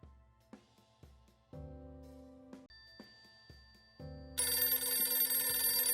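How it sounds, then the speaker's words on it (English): A telephone rings in the For The People visual novel game, several repeated bell-like tones in a steady pattern over quiet music, then a louder, brighter burst near the end. "It appears we have a phone call."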